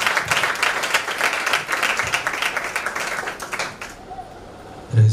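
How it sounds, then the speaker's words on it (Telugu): An audience claps loudly and continuously to welcome a preacher onto the stage at a thanksgiving prayer and birthday gathering, the dense applause fading out near the end. "ఆహ్వానిస్తుండగా చప్పట్లు కొడుతూ"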